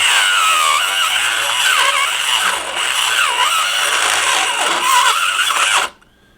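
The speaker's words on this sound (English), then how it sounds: "So I'm going to use a Dremel tool with a solid double cut carbide bit." A Dremel rotary tool fitted with a solid double-cut carbide bit grinds out a hole in mild steel, a loud, close, high-pitched whine with wavering squeals that runs nearly nonstop and then cuts off abruptly.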